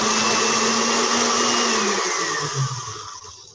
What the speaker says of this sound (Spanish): Los vegetales en la licuadora y los vamos mezclando.